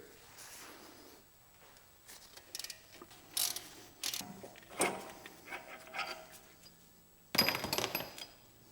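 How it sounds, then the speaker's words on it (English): A ratchet loosens the two T55 caliper mounting bolts on a 991.1 Porsche 911 during a brake job, with bursts of close clicking strokes separated by pauses and occasional metallic clanks, quiet overall. "Next up, I'm going to remove the caliper mounting bolts. So we have two T55 bolts,"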